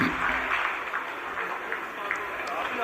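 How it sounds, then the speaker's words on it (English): Scattered applause from a crowd watching the Chandrayaan-3 lunar landing broadcast, a steady mid-level clatter of clapping that runs through the whole span with voices mixed in. "Lot of applause"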